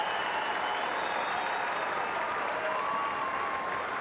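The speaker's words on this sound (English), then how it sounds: "Receiving the applause from the crowd" Tennis crowd at a Toronto Masters semi-final applauds a player, a broad, even roar of clapping sustained for several seconds at moderate loudness, with a few faint tonal streaks above the clapping.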